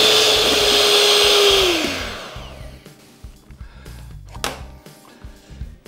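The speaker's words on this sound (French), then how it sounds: "Je vais le monter en blanc, ça va aller assez vite." Electric mixer whipping egg whites with a pinch of salt, a loud steady whir for under two seconds that winds down and stops, leaving quiet clinks and small kitchen noises.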